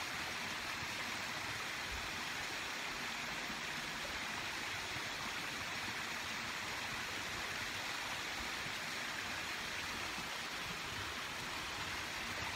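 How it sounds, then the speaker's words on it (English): Water flows steadily, a dense continuous rushing like a stream or running water that fills the space evenly at moderate loudness, with no voices over it. "There's definitely some water flowing."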